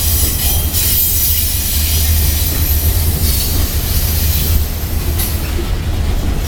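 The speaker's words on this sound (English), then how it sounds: "Long train too." A long train rolls past steadily at moderate speed, with a continuous rumble, rail noise and faint wheel squeal that stay loud and close for the whole stretch. No one speaks.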